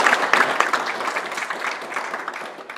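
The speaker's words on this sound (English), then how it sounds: "So give yourselves a round of applause." Steady crowd applause fills a conference hall at a Convention of States gathering in Arkansas, dense and moderately loud, slowly tapering over nearly three seconds.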